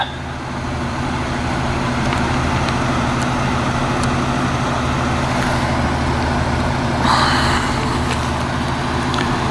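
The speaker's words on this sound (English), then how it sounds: "And now they're moving the cars." Police move cars along a roadside, engines idling and rumbling in a steady low drone for nearly ten seconds, with a faint brighter vehicle noise toward the end and no voices.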